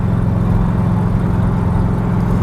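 A Lamborghini Gallardo LP560-4 Spyder pulls in sixth gear from about 2,000 rpm on a test drive. It makes a loud, close, steady low engine drone with a smooth humming tone and no talk.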